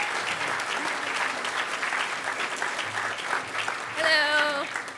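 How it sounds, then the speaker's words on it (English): A crowd at the Hackers On Planet Earth 2012 closing ceremonies claps in a sustained round of applause, with a voice rising over the clapping near the end. "Give her a huge round of applause."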